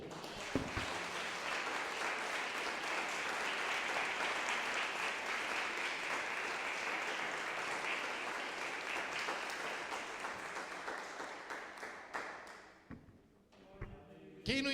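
A church congregation claps together in steady, dense applause for about twelve seconds, then it thins out and fades, with a few scattered claps and faint voices near the end.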